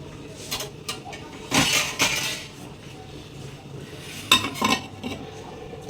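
A lid set onto a pot of water heating for tea in a home kitchen, giving two separate bursts of metallic clinking and clattering against a quiet background.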